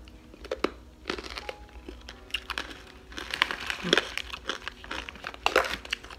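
Close, crisp crunching of ranch-flavored corn nuts being chewed in irregular bursts, with faint crinkling of a bag between bites.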